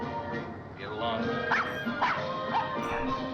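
A dog in the 1954 film Rear Window whimpers and gives a few short yipping barks, several rising whines spaced about half a second apart, moderately close over film soundtrack with voices present.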